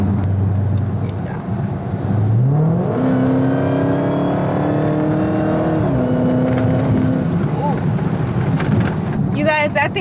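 A Dodge Hellcat accelerating hard on a highway, engine note climbing steadily then holding a loud, sustained drone with road and wind roar throughout, close and continuous.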